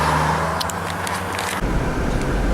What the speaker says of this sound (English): we are now driving down the road